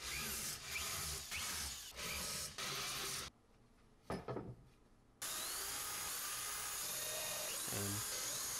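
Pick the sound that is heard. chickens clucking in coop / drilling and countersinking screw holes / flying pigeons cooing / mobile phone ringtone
drilling and countersinking screw holes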